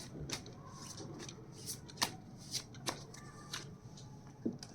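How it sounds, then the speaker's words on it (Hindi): Tarot cards are shuffled and drawn by hand during a relationship reading, with a soft riffling rustle broken by several sharp card snaps and flicks at close range in a quiet room. "हम निकालते हैं कम से कम 3 कार्ड।"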